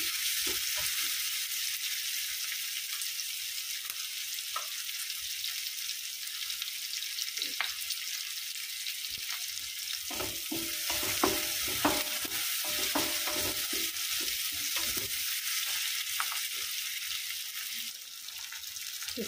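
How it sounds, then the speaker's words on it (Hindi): Onions soften in a pan with a continuous bright sizzle, broken by intermittent scraping and clacking stir strokes, close and loud with no talking. "प्याज को बस हल्का सा सॉफ्ट करना है, ज़्यादा भूनना नहीं है।"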